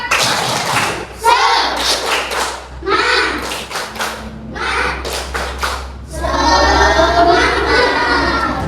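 Children in a classroom do a group "spirit clap" in rhythmic bursts of clapping, loud and close, with a teacher's voice and children chanting in between the clap patterns.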